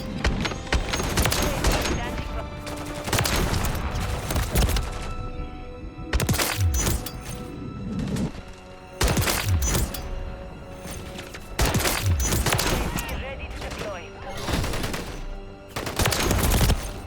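Semi-automatic gunfire in Call of Duty MW3 from a conversion-kit weapon with a 15-round drum magazine: loud bursts of rapid shots in repeated volleys, with someone talking between and over them.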